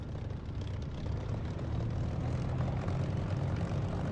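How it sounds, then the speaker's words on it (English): A propeller aircraft engine idles and drones at taxi revs, about 1300 to 1400 rpm, rolling toward the west end of a runway in the DCS flight simulator, a steady, full, unbroken hum with no voices. "I'm just taxiing to the west end of the runway."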